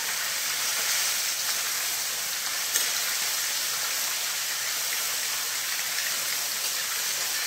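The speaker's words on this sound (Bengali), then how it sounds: "আমি এদিকে কড়াই তেল দিয়ে দিচ্ছি, ফোড়নে দিয়ে দিলাম পাঁচফোড়ন আর দিয়ে দিলাম দুটো শুকনো লঙ্কা" Panch phoron and two dried chillies sizzling in hot oil in a kadai, a steady hissing crackle throughout that stays even and close, with one brief pop midway and no talking.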